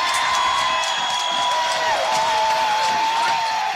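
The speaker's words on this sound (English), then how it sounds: "I just wanted you to hear the sound of people cheering as the third precinct appears to be on fire." Crowd cheering and whooping outdoors while the third precinct police building burns, a dense continuous roar of many voices with a sustained high whistle-like tone running through it.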